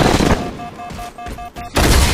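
Battle Rifle fire in Halo on the Complex map during a slayer match, loud close bursts with rapid short repeated cracks and a sharp blast at the end, no talking.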